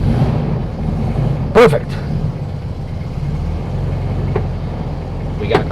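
A 1964 VW Beetle engine, just back from service, runs with a steady low rumble after being started on a reset choke, with a sharp click partway through and a brief spoken word over the idle.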